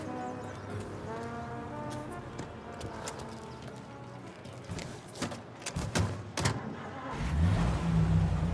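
Car driving in Mafia Definitive Edition, a steady engine hum under in-game dialogue, with clicks and a louder engine surge near the end.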